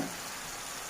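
Zucchini and celery stalks fry and get stirred in a pan, a steady close sizzle with a soft hiss and no voices.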